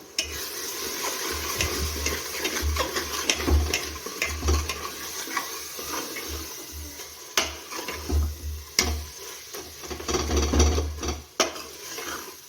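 Chilli powder and garam masala being mixed in a pan for a Maharashtrian chicken curry, with soft frying hiss, intermittent spoon scrapes and taps on the pan, and a low rhythmic thumping underneath, fairly quiet and close.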